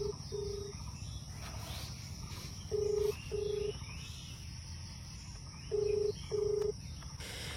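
A phone call ringing out on the caller's side: three evenly spaced pairs of electronic ring tones over a soft night backdrop of insects chirping, no one speaking.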